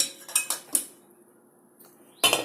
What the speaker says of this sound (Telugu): ఇప్పుడు మనం చికెన్ ఉడికిచ్చాం కదా ఆ గిన్నె దీని మీద పెట్టుకోవాలి